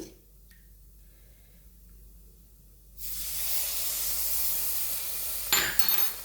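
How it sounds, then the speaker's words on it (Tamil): Tamarind water hits a hot pan of fish curry on a low flame: a quiet stretch, then a sudden loud, steady sizzling hiss that swells near the end. "இப்போ நான் கரைச்சி வச்ச புளியை விட போகிறேன்."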